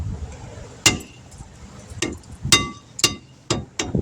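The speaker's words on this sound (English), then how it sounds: "I just hit it with the hammer and popped it off of there, busted it off." A hammer knocks rust off the brake rotor of a 2012 Subaru Forester, six or seven sharp metallic strikes spaced irregularly, close and loud with ringing clinks.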